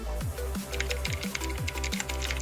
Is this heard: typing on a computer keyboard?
yes